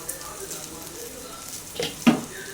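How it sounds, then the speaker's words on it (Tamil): Ridge gourd peel sautéing in a pan gives a soft, steady sizzle, close by, with a couple of brief scrapes or clinks near the end. "சீக்கங்காய் தோல் வதங்கிறது கொஞ்சம் டைம் எடுத்துக்கும்"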